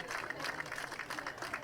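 Applause from the stands at a baseball game, a faint, distant patter of scattered clapping that continues steadily throughout.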